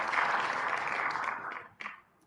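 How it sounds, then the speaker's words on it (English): Applause from a small audience right after a winner is picked in a prize draw, a steady dense patter of clapping that thins and stops near the end. "let's stop clapping"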